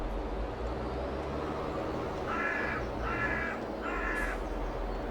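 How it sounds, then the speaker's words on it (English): Crows caw outdoors in three short bursts of repeated harsh calls, set against a steady rumble of background noise. "You can hear the birds are hollering."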